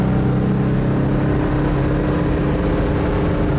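A 1970 Oldsmobile 442's loud, rumbling engine roars steadily under heavy throttle, a deep continuous drone with no voices.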